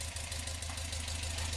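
A Westfield kit car with a four-branch exhaust manifold runs at a steady idle, a close, even, low rumbling throb with a slight rhythmic pulse and no voices.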